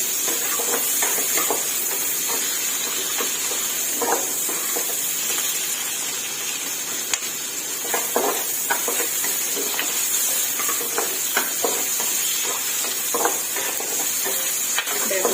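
Chili peppers and onion stir-fry in hot oil in a pan for pork, a continuous close sizzle broken by repeated scraping stir strokes, with no talk.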